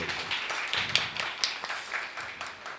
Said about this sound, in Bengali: কাজে ওনার জন্য একটা হাততালি চাই